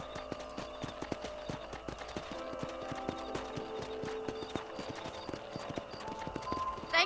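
Steady clip-clop of horse hooves while riding in the Red Dead Redemption video game, a brisk regular rhythm close by over a layer of music and ambience, with a voice speaking briefly.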